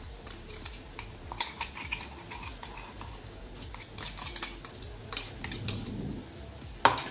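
A spoon repeatedly scrapes and taps against a metal plate while spooning out a finely ground homemade protein powder mixture, irregular clinks and scratches close by, with no talking.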